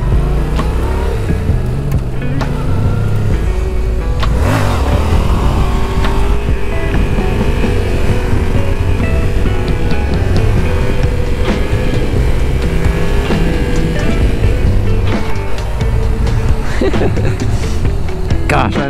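A Yamaha XSR700 motorcycle engine roars loud and close throughout wheelie practice on a cold fall day, with rising and falling revs over steady wind rush.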